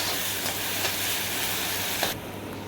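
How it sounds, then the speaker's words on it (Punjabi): Onions and tomatoes sizzle hard in a hot tadka for aloo baingan sabzi, a loud, steady frying hiss with a few stirring scrapes, cutting off abruptly near the end. "ਹੁਣ ਆਪਾਂ ਤੜਕੇ ਨਾਲ ਆਪਾਂ ਚੰਗੀ ਤਰ੍ਹਾਂ ਆਪਾਂ ਭੁੰਨ ਲਾਂਗੇ"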